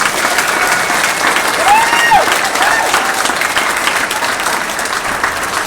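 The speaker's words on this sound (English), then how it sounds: "Give them a round of applause." Loud, dense applause from a crowd at a hall of fame induction for a 1963 high school wrestling team, steady and close throughout, with a few whoops rising above the clapping.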